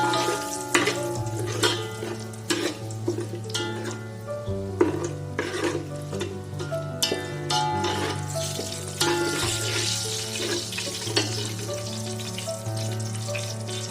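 Tomato rice bath ingredients frying in a pan over a low flame, with a busy sizzle and repeated stirring clatters. Steady tonal background music plays underneath throughout.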